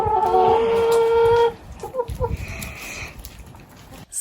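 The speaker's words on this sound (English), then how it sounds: "you'll know it's the chickens talking" Backyard chickens clucking and murmuring close by, a burst of layered calls at first, then softer scattered clucks and low rumbling chatter.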